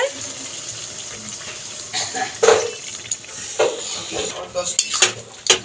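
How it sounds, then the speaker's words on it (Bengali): Amul milk pours into bottle gourd in a cooking pan, a soft liquid splash and gurgle with a few clinks of utensils against the pan, low and close. "এবার দুধটা দিয়ে দেবো লাউয়ের মধ্যে।"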